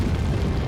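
A grenade blast in Resident Evil 4 is a dense, loud, low rumbling boom that fills the whole short moment without a break.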